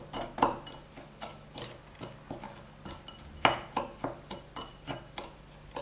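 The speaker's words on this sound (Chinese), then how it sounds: "搅拌均匀。" A spoon clinks and scrapes against a bowl while stirring a sugar filling of white sugar, flour, toasted sesame seeds and oil, in a steady run of close, light taps with a few sharper knocks.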